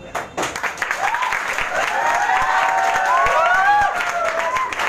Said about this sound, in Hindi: एक बार जोरदार तालियां प्रोवी के लिए,